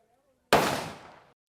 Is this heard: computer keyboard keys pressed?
no